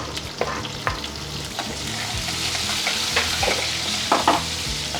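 Cumin, bay leaf, cardamom, star anise, whole spices and finely chopped onion sizzle steadily in a steel kadai, with a spoon scraping and stirring close by now and then, loud and continuous, no voices.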